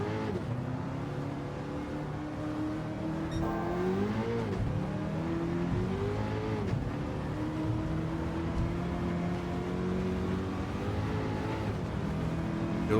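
A Toyota Hiace van with a swapped engine accelerates in Gran Turismo 7, a steady loud engine drone rising in pitch through gear changes, with brief dips and climbs as the revs shift.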